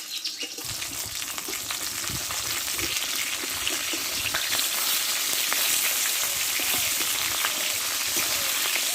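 Two pieces of fish fry in hot oil with a loud, steady sizzle and crackle that continues close up throughout, with occasional stirring.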